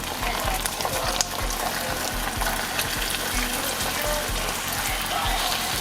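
Honey BBQ sauce with spicy seasoning and soy sauce caramelizes in a hot pan for chicken wings, a steady close bubbling sizzle with soft crackles throughout and no speech.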